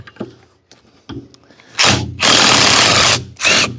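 A power tool spins a bolt out during repair work on a Woods 720 Brush Bull mower. A few quiet knocks come first, then three loud, close bursts of whirring machine noise.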